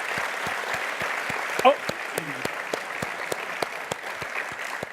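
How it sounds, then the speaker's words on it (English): An audience claps for the coaches at a talk, a steady rhythmic patter of moderate applause with a brief voice exclamation partway through. "We should clap. You got great coaches here."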